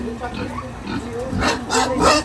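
A pig grunts and snorts up close in short bursts, mixed with nearby voices talking over it.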